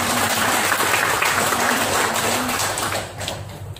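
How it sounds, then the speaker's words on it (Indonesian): A church congregation claps loudly and continuously in a dense, close burst of applause that tapers slightly toward the end. "Beri tepuk tangan bagi Tuhan."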